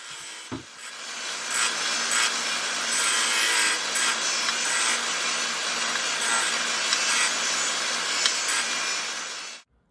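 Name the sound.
Shopsmith used as a sander on wood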